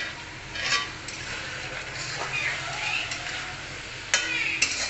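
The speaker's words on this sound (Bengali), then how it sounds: "আমি ওইদিকে মাংসটা কষে নেবো। দেখুন বন্ধুরা, এই অবস্থা হয়েছে। আমি একটা গোটা সুন্দর করে ধুয়ে নিয়েছি, টমেটো অ্যাড করে দেবো।" Chicken frying in a pan for country-chicken biryani as a washed whole tomato goes in, giving a steady close sizzle with scraping stirs and a sharper clatter near the end, no speech.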